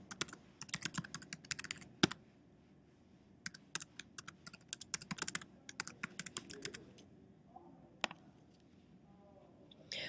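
Fast bursts of typing on a computer keyboard while an Apple ID password is entered, crisp close key clicks in uneven runs with brief pauses between them, fairly quiet.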